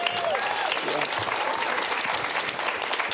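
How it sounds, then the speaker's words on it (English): Audience applause at a solidarity and justice gathering, steady, dense clapping that holds at full strength for the whole stretch without a break. "So round of applause."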